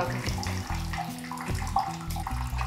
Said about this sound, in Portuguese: Vou colocar mais um pouco de água.